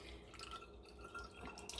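Homemade apple cider vinegar poured through a funnel and strainer into a jar, a steady close trickle and drip of liquid running continuously for a couple of seconds.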